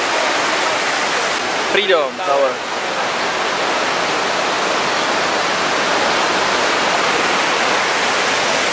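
Water pouring steadily into the 9/11 Memorial fountain pools at the site of the Twin Towers in New York, a dense continuous rush heard alone apart from a brief voice near the start.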